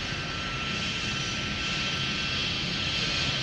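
A Boeing 747 taxis on taxiway Mike at Minneapolis–Saint Paul airport, its jet engines giving a steady, loud roar and whine with no let-up over a few seconds.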